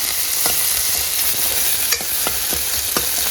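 Onion, curry leaves and ginger-garlic paste sautéing in a pan for egg curry, a loud, steady close-up sizzle with a few sharp spatula taps and scrapes spaced through it.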